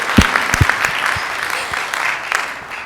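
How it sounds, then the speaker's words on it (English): Applause at a Rotary club meeting, a modest group clapping with a few loud, distinct claps near the start before settling into lighter, steady clapping. "One more round of applause."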